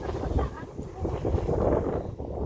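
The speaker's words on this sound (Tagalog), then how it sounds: "ang sarap ng hangin" Wind gusts blowing outdoors at a beach, rumbling steadily across the microphone with people talking faintly underneath.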